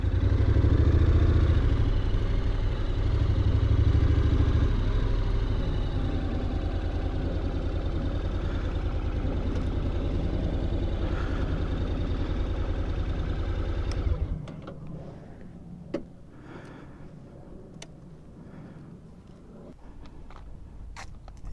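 A 2021 Honda NC750X DCT motorcycle engine while riding, a loud steady low drone with wind rush that drops abruptly to a quieter idle, scattered clicks and clatter following.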